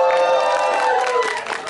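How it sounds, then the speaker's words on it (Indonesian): A live audience at a press event for an Indonesian horror-comedy film cheers and claps loudly for a cast member named Ega, a dense, continuous burst of crowd noise with shrill voices throughout. "Ega, tepuk tangan untuk Ega"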